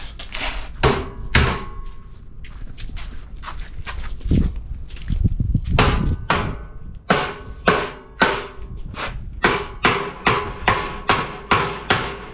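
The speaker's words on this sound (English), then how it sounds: "I'm gonna get a hammer." Sharp hammer blows ring out on wood while building a sand buggy roof, scattered at first, then a steady run of evenly spaced strikes, close and loud.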